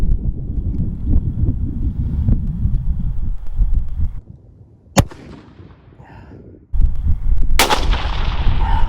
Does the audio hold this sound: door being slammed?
no